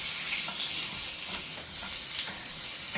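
Steak searing on its tallow side in a hot pan, a loud, steady crackling sizzle that holds throughout with small popping bursts and no talk.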